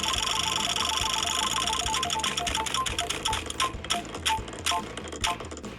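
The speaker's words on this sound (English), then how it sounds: "Spinning the wheel again." A prize wheel spins with rapid, evenly spaced mechanical clicks that slow gradually and grow more spaced out as the wheel winds down. The sound is loud and close, with no talk over it.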